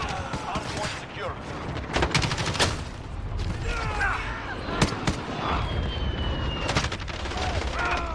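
Gunfire in Call of Duty Warzone, with scattered bursts and single sharp shots crackling against a busy game background and faint voices.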